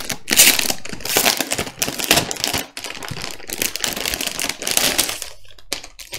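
Unboxing the board game Hybris: Disordered Cosmos: continuous rustling, crinkling and scraping of cardboard and plastic wrap, loud and close, with clattering pieces and a few dull knocks near the end.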